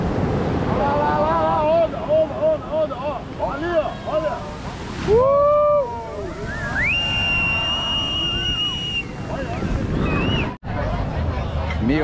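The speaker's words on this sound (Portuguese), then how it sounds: "as ondulações quebram bem aqui, pertinho da areia" Surf breaks close to the sand at Paúba beach, a constant heavy roar of waves mixed with wind buffeting the microphone and whistling, tonal sounds.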